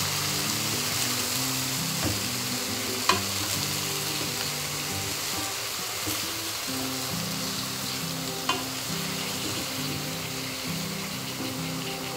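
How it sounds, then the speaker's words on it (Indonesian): Sliced eggplant fries in a pan while being stirred for a spicy stir-fry, a steady close sizzle running throughout with a few faint scrapes and taps of the utensil against the pan. "Kita masukkan terongnya. Kita aduk-aduk biar tercampur rata."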